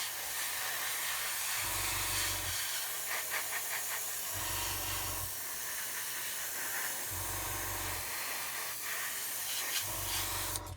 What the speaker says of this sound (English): we can spray it on very lightly and let it build up